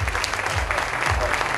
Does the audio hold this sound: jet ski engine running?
no